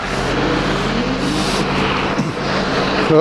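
A car drives past on a road during a police stop, a steady broadband engine and tyre roar with a slight swell near the end, fairly close and loud throughout.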